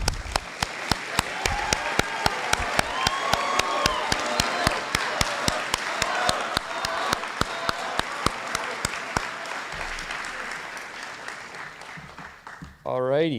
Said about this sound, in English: This applause is for you, not just for me.